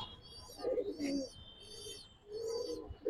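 Soft, low pigeon coos repeat in a few rounded phrases, with faint higher chirps above them in a quiet setting.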